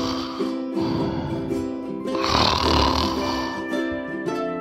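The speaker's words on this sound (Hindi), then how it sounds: "मोंटी खर्राटे लेकर सो रहा था" A cartoon rabbit snores in deep sleep, a steady drawn-out rumbling snore that swells in the middle, set over a continuous musical background with no talking.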